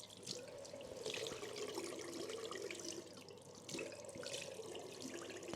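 A bathroom tap runs steadily into the sink during face washing and tooth brushing, a soft continuous stream with faint splashes and small interruptions as hands pass through the water, quiet and alone.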